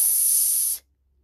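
A voice imitates the letter S as a single sustained, bright hiss lasting under a second before cutting off into silence.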